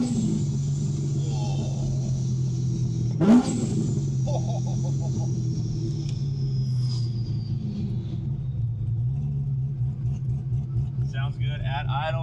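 A 750 hp supercharged C6 Corvette Z06 driving, heard from inside the car as a steady low engine rumble with road noise, while people talk over it.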